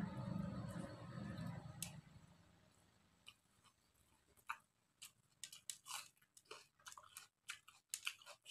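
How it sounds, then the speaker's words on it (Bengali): Someone eats a spicy thali meal with bean curry at close range. A brief murmur of voice comes first, then a quiet stretch, then a run of soft, wet chewing and crunching bites in an uneven rhythm. "এবারে আমি খাচ্ছি বিনসের তরকারি দিয়ে।"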